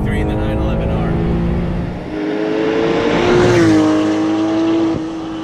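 A Porsche 911 GT3 runs on canyon roads with a meaty, throaty engine note that rises in pitch as it revs and accelerates, loud and steady for several seconds, with a brief dip partway through.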